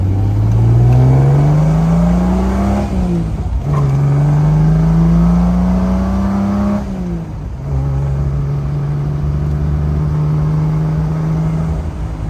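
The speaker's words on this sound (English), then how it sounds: "You'll see here when we downshift, it doesn't grind down in a second. It pulls in nicely, nice and smooth on the clutch." A 1968 Triumph TR250 driving on the road, its engine note holding steady and then dipping and rising again as it shifts down smoothly twice, loud and close throughout with no one talking.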